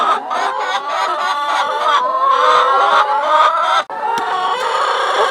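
Hens in a backyard chicken coop cluck and chatter continuously at close range, a dense overlapping flock with a brief dip near the end.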